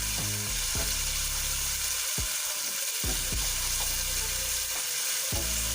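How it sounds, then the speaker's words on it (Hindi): One tablespoon of garlic-ginger paste fries in hot oil over a medium flame for chicken kachori. It gives a steady, close sizzle, with stirring scrapes and clinks coming every second or so. "1 टेबल स्पून मैं इसके अंदर लहसुन अदरक का पेस्ट शामिल करूंगी और 30 सेकंड तक इसकी भुनाई कर लूंगी।"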